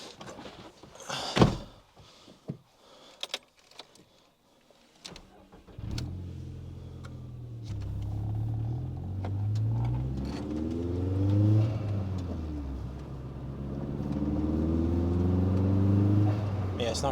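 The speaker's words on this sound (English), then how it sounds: "So let's drive back." A door thunk and clicks, then a turbocharged car with an overly soft diverter valve starts up and drives off, its engine note rising steadily as it accelerates and staying loud and close to the end.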